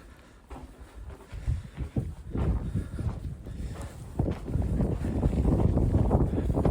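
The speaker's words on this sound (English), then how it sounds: "This should be definitely the windier side, and it is." Gusty wind on the exposed, windier side of an outdoor spot, a dense low rumbling roar buffeting the microphone that builds in strength and grows louder and more continuous toward the end.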